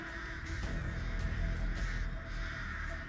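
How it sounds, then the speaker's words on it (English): Crow in Dead by Daylight, on the Eyrie of Crows map, caws in a few harsh repeated calls over a steady ambient hum, fairly near and alone without speech. "Looks like you got a crow from the lorry."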